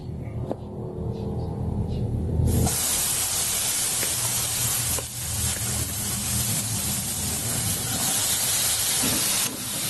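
Potatoes soaked with garlic and pepper hit a hot pan and fry with a sudden loud, steady sizzle that holds close and continuous after a quieter start.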